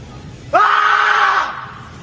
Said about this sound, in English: All you got to do is scream. as loud as I can.